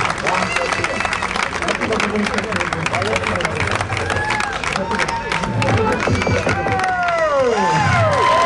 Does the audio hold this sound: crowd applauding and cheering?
yes